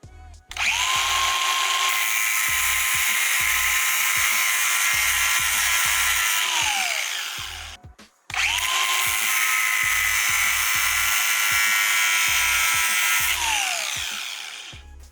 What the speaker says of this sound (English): I'm going to take my angle grinder and just very carefully cut away at the washer.